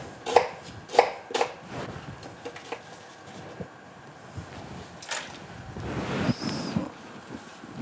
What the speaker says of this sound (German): Dann wird das Gemüse grob geschnitten, der Lauch.